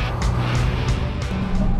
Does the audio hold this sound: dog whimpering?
no